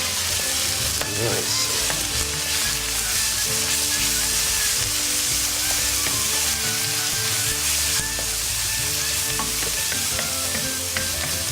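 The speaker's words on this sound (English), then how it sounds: "I'm going to begin with mixing in the garlic and ginger paste" Garlic and ginger paste sizzles loudly and continuously in a hot pan, with frequent stirring and scraping close by and nobody speaking.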